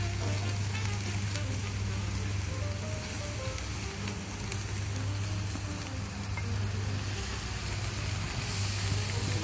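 Thick-cut steaks and pineapple sizzle on a hot grill, a dense, continuous hiss and crackle, close and steady for the whole stretch with a low hum underneath.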